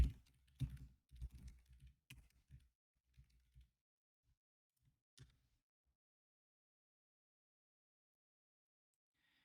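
Someone types code on a computer keyboard, with close, crisp clusters of keystrokes that thin out to a few isolated taps and then stop, leaving silence.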